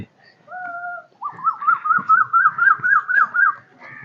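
An Asian koel whistles a steady series of rising, looping calls, about ten in quick rhythm, clear and fairly close, with a couple of softer tones before, in village fields.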